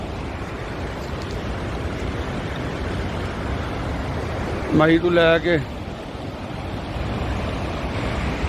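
A mountain river rushes steadily past on the way to Manikaran Sahib in the high valleys, a loud broad roar mixed with cool wind buffeting the microphone, while someone briefly speaks midway.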